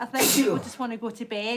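A sudden, forceful sneeze bursts out, and then a person starts talking right after it.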